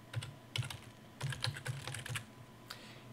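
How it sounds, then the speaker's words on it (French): Keys clatter on a computer keyboard as a table column title is typed into a Word document, quick close clicks in short irregular bursts with pauses, no voices. "je peux commencer à taper le titre de la première colonne."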